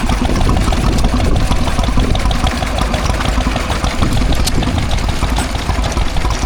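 A Lister D engine drives a Lister water pump at a country show, thumping steadily at close range with a loud, continuous splash of pouring water over the engine's beat.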